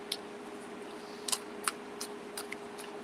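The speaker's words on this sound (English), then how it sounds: "Got a little shuffling going on here." Tarot cards shuffled by hand during a reading, giving a few sparse, light crisp flicks and taps spaced irregularly over a low steady hum, close and fairly quiet with no talk.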